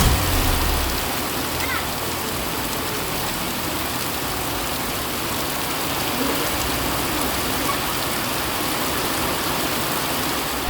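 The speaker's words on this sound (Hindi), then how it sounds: "आप देखिए ये नेशनल हाईवे है जहां पर गाड़ियां किस कदर पानी में से निकल रही हैं, रेंगते हुए निकल रही हैं" Vehicles crawl through knee-deep floodwater on a flooded national highway, a dense, steady rushing and splashing wash of water that stays loud and unbroken throughout.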